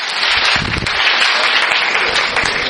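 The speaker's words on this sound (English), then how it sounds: "let's give him a clap" A class applauding at the end of a sociology lecture on Durkheim, a short burst of sustained clapping from a room of students, fairly loud and even throughout.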